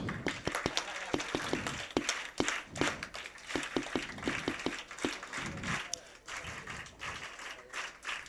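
An audience claps at a Marathi devotional gathering honoring a maharaj, scattered sharp claps in uneven bursts with talk around them.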